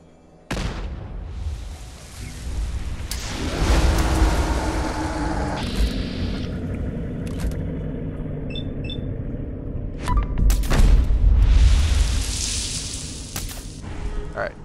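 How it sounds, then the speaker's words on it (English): A grenade blast in a video game: a loud, sustained boom with a rumbling tail fills much of the stretch, then a second heavy burst swells near the end, with scattered game effects and no speech. "So, throw the grenade."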